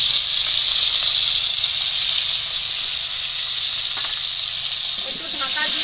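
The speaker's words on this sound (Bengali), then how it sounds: "এবার এই ঝোলের আলুগুলোও ভেজে নেব।" Potatoes frying in oil in a pan for a fish curry, a steady loud hissing sizzle that holds throughout, with a clatter of a utensil near the end.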